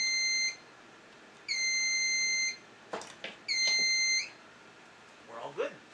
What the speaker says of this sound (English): The panel, or the buzzer will beep